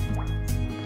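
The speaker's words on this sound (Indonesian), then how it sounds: "ini selanjutnya kita kasih kuahnya" Syrup poured into a Hong Kong-style fruit ice dessert of fruit pieces and jelly, a short, close liquid pour with faint dripping over a steady background hum and no speech.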